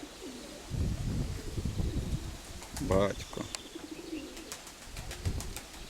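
Pigeons coo softly in low, rolling phrases at a dovecote, with a brief brighter call and faint wing sounds, while someone talks nearby.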